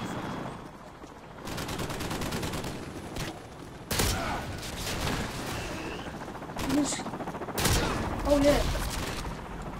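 Shotgun fire in the video game Modern Warfare 2 crackles in several sharp bursts and blasts amid other game noise, while a person briefly speaks over it.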